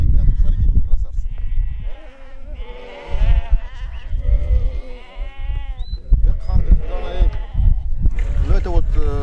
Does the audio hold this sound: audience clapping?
no